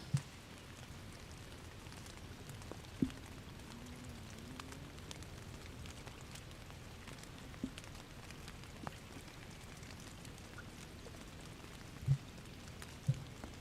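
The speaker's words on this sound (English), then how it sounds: "You can hear the rain. It's been relentless the last few races now." Steady rain falls relentlessly over a rowing course during a national championship race, a soft continuous hiss with a few sharp drops or knocks standing out.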